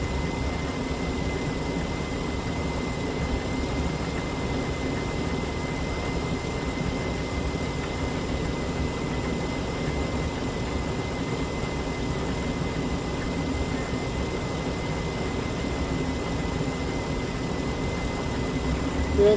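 A 2005 Chrysler Town and Country engine idles steadily with its radiator just replaced, a continuous low hum and rumble holding even for the whole stretch with no voices over it.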